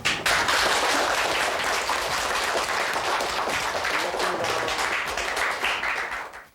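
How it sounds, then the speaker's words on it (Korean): A studio audience gives steady, dense applause for a Korean War veteran grandfather, the clapping sustained close and even before tapering off at the end. "우리 할아버지께 박수로"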